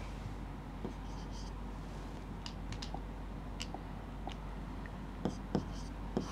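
Pen or chalk scratches faintly as a maths solution is written out, short scratchy strokes spread irregularly over a low background hum, with no talking.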